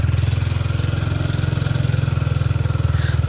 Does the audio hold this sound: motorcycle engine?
yes